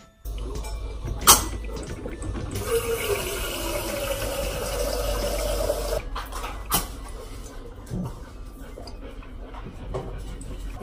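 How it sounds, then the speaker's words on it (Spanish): Coffee filtering while water heats for tea in a home kitchen, a steady liquid hiss and trickle lasting several seconds, with a few sharp clicks and knocks before and after, no talk. "Estoy esperando que se termine de filtrar el café y que se caliente el agua para el té"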